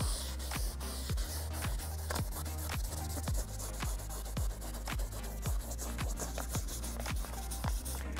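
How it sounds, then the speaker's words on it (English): Sandpaper wet-sanding a foggy plastic car headlight lens: rhythmic back-and-forth rubbing strokes, roughly two per second, close and steady over a low continuous hum, with no talk. "you're covering the whole lens with the sandpaper"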